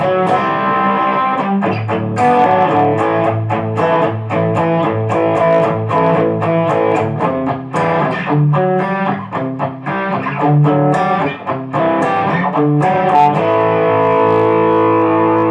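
Electric guitar through a Boss GT-1000 amp simulator on the lightly tweaked Double X Drive preset, playing continuous distorted chords and riffs with sustained, saturated tone and some reverb, steady and loud throughout with no talking.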